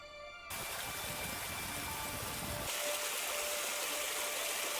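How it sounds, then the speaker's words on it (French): A mountain stream rushes in a steady, close, broadband wash of flowing water that carries on evenly throughout, with no talk. "Le son de la... du ruisseau."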